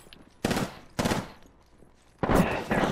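Enemy gunfire in the battle royale game Apex Legends: three loud bursts of rapid shots, each roughly half a second long, separated by short gaps.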